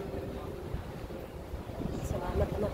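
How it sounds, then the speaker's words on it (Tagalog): Steady wind buffets the microphone in a low continuous roar at an outdoor Christmas tree site, with faint outdoor background underneath. "Sobrang hangin."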